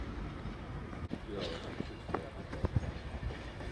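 Class 156 diesel multiple unit 156491 on a Carlisle to Lancaster service passes with a broad, close rumble broken by intermittent clanks and rail clicks.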